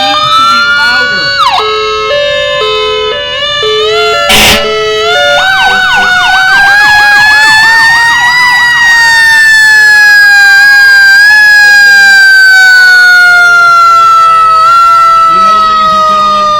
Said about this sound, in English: a siren sound on a PA system?